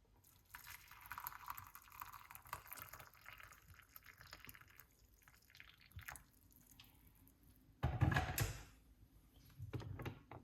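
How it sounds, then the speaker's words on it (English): Hot water poured into a small cup, a soft liquid trickle and drip running through, swelling to a louder, fuller pour near the end, with no talking. "Pour hot water."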